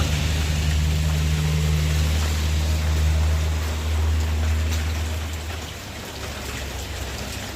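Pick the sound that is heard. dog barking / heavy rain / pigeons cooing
heavy rain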